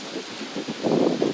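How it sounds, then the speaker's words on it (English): Heavy rain pours outdoors during a thunderstorm, a dense rushing hiss with low rumbling that swells louder toward the end, with no voices. "I mean, it's raining pretty bad now."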